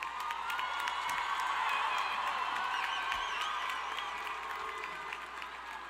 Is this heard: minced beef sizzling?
no